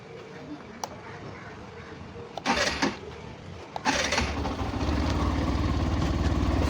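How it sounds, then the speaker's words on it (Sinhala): A Hero Xtreme 125R motorcycle is started up during chain cleaning: a few faint clicks, two short cranking bursts, then the engine catches and settles into a steady, close idle. "ආපහු අපි එකපාරක් බයික් එක ස්ටාර්ට් කරමු"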